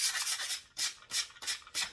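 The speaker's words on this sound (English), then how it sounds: "you might not be able to hear me while I was sanding" Sanding a resin 3D printer flex plate on a Creality Halot Lite: four or five bursts of dry, hissy scraping rub, close and alone, separated by short pauses.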